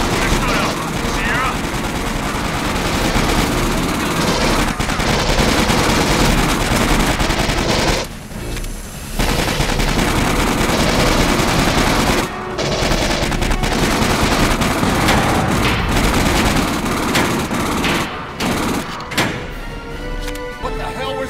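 Short bursts of automatic gunfire from pulse rifles in the shooter game Aliens: Colonial Marines, loud and dense with brief pauses, layered over game effects and voices talking.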